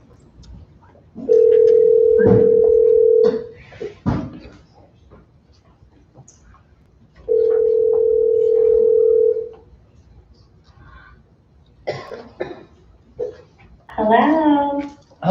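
A telephone dial tone sounds twice as a steady, loud, sustained tone while calling someone on speakerphone during a school board meeting, with scattered talk, clicks and a brief voice at the end.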